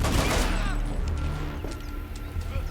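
Rapid bursts of gunfire in the video game Hatred crackle loudly, a dense volley at first that thins into scattered shots, with faint talk underneath.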